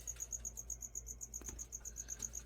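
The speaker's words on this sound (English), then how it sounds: "see the crickets over here?" Crickets kept as pet feeders chirp steadily indoors, a rapid high pulsing trill repeating through the whole stretch alongside a faint low hum, with no voices.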